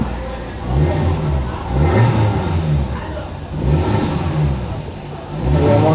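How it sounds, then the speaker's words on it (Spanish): A car engine revving in repeated rises, four or five swelling bursts of mid-pitched engine roar separated by dips back toward idle, loud and close with no talk over it. "Entonces procedemos a prender el vehículo."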